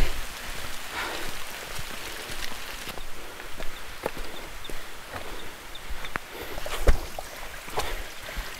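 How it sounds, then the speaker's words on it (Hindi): Steady rain patters down on a surface on a trek to Kalavantin Durg near Panvel, Maharashtra, a dense hiss of drops with occasional louder splats, continuous throughout with no voices. "तो बारिश शुरू हो गई है अच्छा हुआ भीग जाएंगे"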